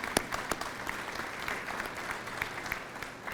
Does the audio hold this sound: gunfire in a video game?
no